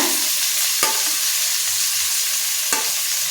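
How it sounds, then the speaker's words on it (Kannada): Spinach and mint leaves frying in ghee, with a steady broadband sizzle throughout and two brief, sharp stirring scrapes against the pan. "ಪಾಲಕ್ ಸೊಪ್ಪು ಹಾಕ್ಕೊಂಡು ಸ್ವಲ್ಪ ತುಪ್ಪದಲ್ಲಿ ಫ್ರೈ ಮಾಡ್ಕೋಬೇಕು"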